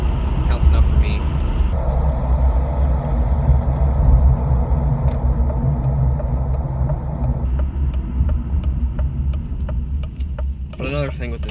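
A 2010 Honda Civic with no muffler and a 1 3/4 inch exhaust pipe runs with a steady, buzzy, raspy drone, loud and close throughout. The pitch shifts slightly partway through, and a brief scraping rattle comes near the end.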